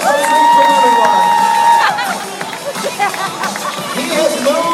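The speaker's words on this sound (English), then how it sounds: "And the crowd goes wild for a quick pose in here." A cruise ship crowd at a belly flop competition on the Allure of the Seas cheers loudly, with a long sustained whistle at first, then whoops, shouts and babble churning steadily underneath.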